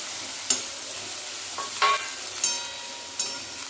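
Cut ivy gourd pieces frying and being stirred in a pan with roasted chilies and turmeric, a steady close sizzle broken by a few sharp scraping stirs.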